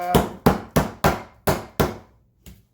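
A meat mallet's flat side pounds pheasant flat through a sheet of plastic: six heavy, evenly spaced thuds close up, then a pause and one lighter final blow, with no talk.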